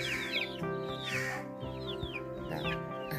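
Ducklings at a pond give repeated high, quick peeps and chirps close by, over a low steady background.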